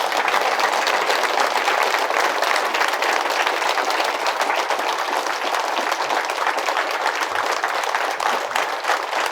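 Loud, sustained applause from a large audience at a spiritual gathering, a thick and even roar of clapping that stays strong from start to finish with no talk.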